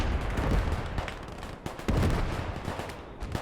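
Artillery barrages in the World War II game Gates of Hell on the Eastern Front, dense rumbling booms and rolling gunfire that overlap into a loud, continuous battle roar with no talking.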